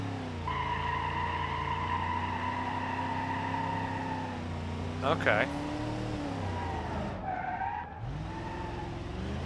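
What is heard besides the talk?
car burnout tire squeal after neutral drop, BeamNG.drive video game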